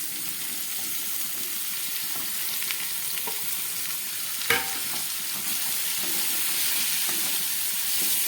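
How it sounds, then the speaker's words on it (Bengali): Chopped ash gourd sizzles and fries with potatoes and green chilies in a pan, a steady dense crackle with a brief louder clatter midway, close and continuous with no talking. "এবার আমি এর মধ্যে এই কেটে রাখা চাল কুমড়ো দিয়ে দিচ্ছি।"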